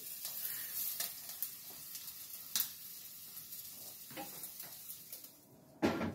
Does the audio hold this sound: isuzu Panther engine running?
no